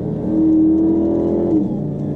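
A Dodge Charger Hellcat Redeye, set to custom drive mode, revs hard on a curvy road, its engine holding a loud, steady tone before the pitch drops briefly.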